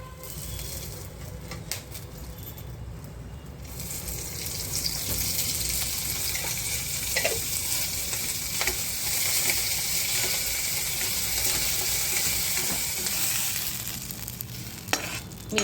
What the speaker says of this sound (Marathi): थोडंसं तेल टाकून भाजायची मिरची.